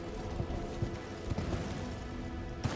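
Horse hoofbeats from the video game Elden Ring, a steady clip-clop of a galloping mount heard up close and fairly quiet against a dense background of game ambience and music.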